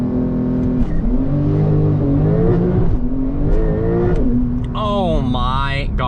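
A 992-generation Porsche Turbo S accelerating hard, its engine note climbing in rising sweeps from inside the cabin, with an excited voice talking over it and a sharp upward whine near the end.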